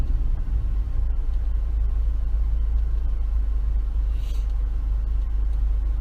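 A car engine idles at a red light, a steady low rumble heard from inside the vehicle with a faint hum of road noise and no talking.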